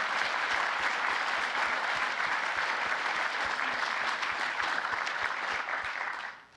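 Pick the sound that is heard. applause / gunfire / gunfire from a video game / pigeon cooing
applause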